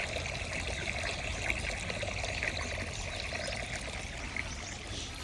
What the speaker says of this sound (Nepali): यहाँ चाहिँ यस्तो धारो जस्तो बनाएको छ, अनि यहाँबाट पानी निस्किराखेको हुन्छ